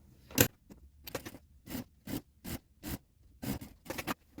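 A zipper and fabric being handled while a bag is sewn, giving a string of short, close rasping zips and scrapes in an irregular rhythm, with quiet gaps between strokes.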